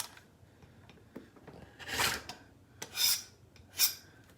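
A rotary cutter trims quilting fabric for an Ohio Star block in a few distinct rasping strokes, each a short, bright swish, separated by quiet pauses.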